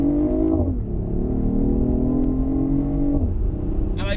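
A BMW i8 sports car's engine is revved with manual gear changes in sports mode, a close, loud, sustained drone whose pitch climbs, drops sharply, holds, then falls again with a brief whoosh at the end.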